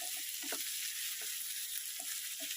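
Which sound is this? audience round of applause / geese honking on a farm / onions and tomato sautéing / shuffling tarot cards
onions and tomato sautéing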